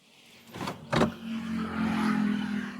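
A petrol car pulls away from a stop, with a low engine hum rising and settling into steady driving, plus a couple of brief mechanical clunks near the start, heard from inside the cabin with no talking.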